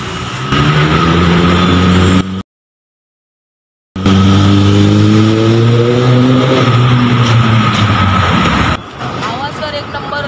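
Kawasaki ZX-10R motorcycle fitted with an Arrow full exhaust system revving hard, loud rising engine roars with a brief gap, close to the microphone and over background noise.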